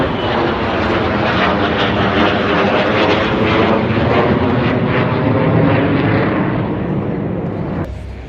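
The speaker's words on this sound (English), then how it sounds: "We've got the flyby coming through." A single plane roars low overhead in a flyby above a Sydney ANZAC Day march, loud and sustained for several seconds before fading slightly at the end.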